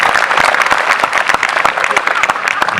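Vigorous audience applause at an NCC day talk, loud and continuous with distinct individual claps standing out, and voices faintly mixed in.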